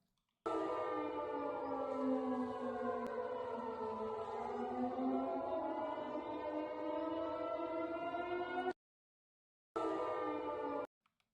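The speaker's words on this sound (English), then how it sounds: "Quick video of air raid sirens in Russia." Air raid sirens in Russia wail in long rising and falling tones, distant and layered, then cut out briefly before resuming.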